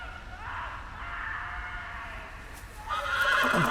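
A horse in the Telltale Game of Thrones video game gives a long shrill whinny, followed by a louder rising neigh and a rush of movement as it bolts away.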